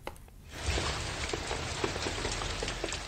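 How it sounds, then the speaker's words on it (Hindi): Steady rain falls across Kupwara district in Kashmir during days of heavy downpour, a dense continuous hiss of drops on surfaces that swells in after a quiet half second and holds evenly loud to the end. "पिछले कई रोज से कुपवाड़ा जिले में बारिशों का सिलसिला जारी है"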